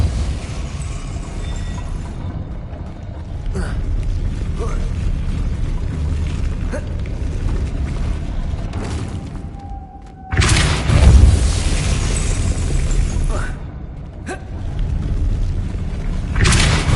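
A Depulso spell cast in a Harry Potter video game triggers a mechanism: a low rumbling drone broken by two sharp, loud bursts of force, with a quieter swell near the end.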